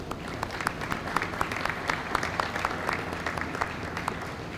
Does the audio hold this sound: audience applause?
yes